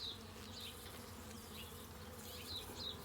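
Honey bees hum in a steady, low drone during a hive inspection, faint and continuous throughout with no talking.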